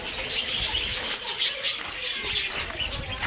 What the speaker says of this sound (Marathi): तर हे बघा, हे पक्षी बघा केवढे मोठे